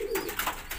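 Indian fantail fancy pigeons give a short, soft coo lasting under a second, close and fairly quiet with no voices over it.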